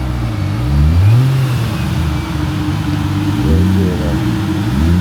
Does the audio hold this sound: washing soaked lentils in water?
no